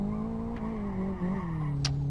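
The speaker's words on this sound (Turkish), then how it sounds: "Bakayım şuraya tam gaz girmeye çalışacağım." Golf car engine droning at full throttle in the racing game Live for Speed, a steady close hum with pitch sliding slightly and brief tire squeal chirps.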